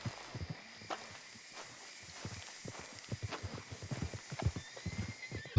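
A horse in the video game Red Dead Redemption 2 whinnies and trots, hooves clopping in a steady rhythm close up over faint game ambience, with little else audible.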